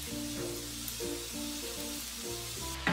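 Chicken fried rice with a squeeze of lemon hisses faintly in a hot pan as it is stirred, a soft steady sizzle with light scraping rhythm.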